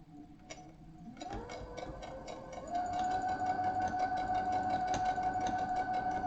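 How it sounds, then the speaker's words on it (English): A sewing machine runs steadily as it stitches a seam down a patchwork quilt block, starting with a few ticks and then settling into a continuous, close, even hum that grows louder partway through, heard alone without talking. "we're just going to sew down this line just like we did with the last one"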